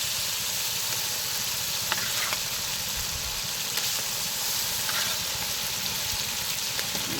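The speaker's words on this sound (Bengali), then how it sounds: "এবার হচ্ছে ভাজা মাছগুলো দিয়ে দিতে হবে।" Fried fish goes into a pan of spiced curry and sets off a steady, even sizzle. The crackle and hiss fill the scene throughout, close and constant, with a few faint clicks.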